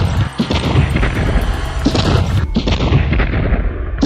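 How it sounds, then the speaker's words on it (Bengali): Loud, dense gunfire fills the whole stretch, heavy booming shots and crashes blending into a continuous barrage with no pause or talk. "চারিদিকে তখন শুধু গুলির শব্দ।"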